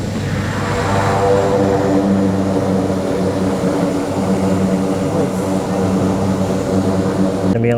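Continuous loud drone of a propeller plane engine on a glacier flight at Mount Cook's Tasman Glacier, steady and close, with no break across the whole stretch.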